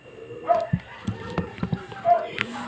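A pet dog gives several short yips and whimpering barks, close and scattered over a few seconds, with a person's voice and background noise mixed in.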